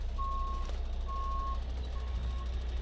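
A truck backs up, its reversing alarm giving three clear, evenly spaced beeps over a low, steady engine rumble.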